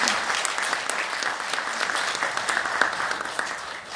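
Dense, sustained applause from an audience at a formal constitutional-amendment forum, with many hands clapping steadily and evenly throughout, filling the room without a break.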